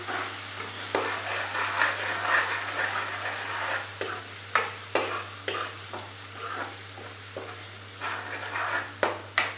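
Garlic-ginger paste frying in hot oil for a dhaba-style white urad dal, a steady sizzle throughout, with sharp scraping clicks from a spoon stirring the pan, which come more often in the second half.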